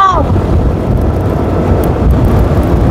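Strong wind roars across the microphone in a dense, constant low rumble during a road bicycle race, loud and unbroken throughout.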